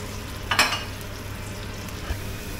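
Egg frying slowly in an iron wok on a gas stove, a soft steady sizzle with a brief scrape of a spatula flipping it early on, then quiet frying continues.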